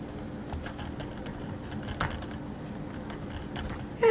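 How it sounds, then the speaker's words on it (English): A computer keyboard is being typed on, giving a soft, irregular patter of key clicks over a low background hum, close but quiet, with one slightly louder tap midway. "now we are going to type in Chapter 2"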